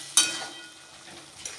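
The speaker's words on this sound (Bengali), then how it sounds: "লঙ্কা আর গোটা জিরে দিয়ে দিচ্ছি" Green chili and whole cumin drop into hot oil with a brief bright hiss, which fades before a second short crackle of sizzling near the end.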